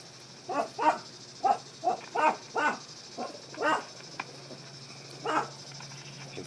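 A dog reacting to a stray cat, giving about ten short, evenly spaced barks or yips at moderate distance over a quiet background, with no talk.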